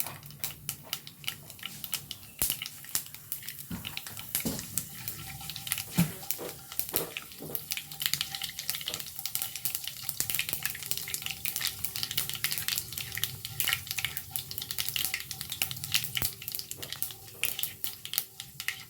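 Fenugreek seeds fry in hot oil for a Malayalam drumstick-leaf stir-fry, a low continuous sizzle with sharp spitting crackles and occasional stirring clinks, steady and close throughout.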